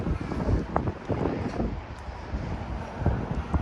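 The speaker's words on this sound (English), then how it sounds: "Hopefully you can hear me over the wind. The wind is crazy." Strong wind roars and buffets the microphone across an open outdoor Copart car auction lot in Austin. The rumble is steady and loud and rises in gusts, with no clear voice.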